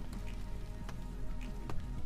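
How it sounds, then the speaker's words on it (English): Rain patters at a campsite, a dense steady hiss of drops with occasional sharper taps close by, no voices. "And now it's raining."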